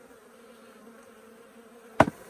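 Honey bees at a hive during colony work, a soft continuous buzzing drone ending with a sudden louder knock and burst of buzz near the end.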